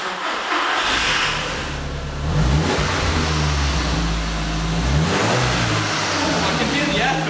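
An Audi S3 8L fitted with a cheap aftermarket air filter revs up and settles twice, with mid-pitched engine swells and audible intake noise. Voices talk faintly over the engine.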